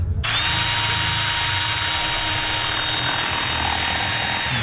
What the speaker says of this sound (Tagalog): nilagyan natin ito ng oil. Ayan, Singer oil para hindi mahirapan yung mismong drill bit.